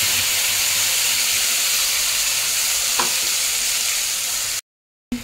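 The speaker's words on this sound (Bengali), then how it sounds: "মশলাটাকে কষিয়ে নিয়েছি" Masala paste sizzling and frying in hot oil with a little ghee, a steady loud broadband hiss with a brief stir clink near the middle, cutting to silence near the end.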